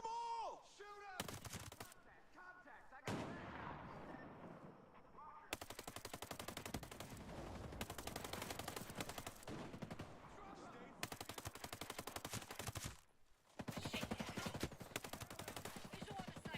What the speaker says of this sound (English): Keep the firepower going